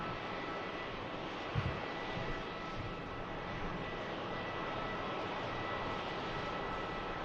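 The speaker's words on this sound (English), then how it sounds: "EasyJet out to Kos, followed out by an EasyJet to Amsterdam." EasyJet airliner taking off at Manchester Airport, a steady broadband jet roar heard from a distance, holding an even level throughout with no voices over it.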